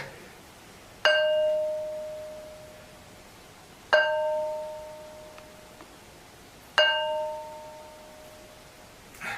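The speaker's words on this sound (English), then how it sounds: "Demonstration how these stones ring like bells" A heavy ancient stone is struck three times at even intervals a few seconds apart, each strike giving a clear bell-like ring that decays slowly, heard close and alone without speech.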